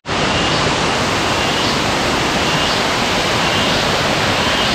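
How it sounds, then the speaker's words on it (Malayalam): A waterfall near a home pours water down in a steady, loud, close rush of broadband roar that holds unbroken throughout, with no voices. "ഈ ഒരു വെള്ളത്തിൻ്റെ ശബ്ദവും അതുപോലെ ഈ ഒരു വെള്ളം ഒലിച്ചു വരുന്നതൊക്കെ കാണാൻ ഭയങ്കര രസമാണ്"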